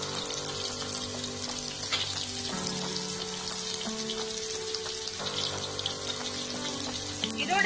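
Onion, garlic and green chilies sauté in a pan with curry leaves for a vegetable fish curry, giving a continuous close sizzling hiss with soft crackles that stays steady throughout, with no talking.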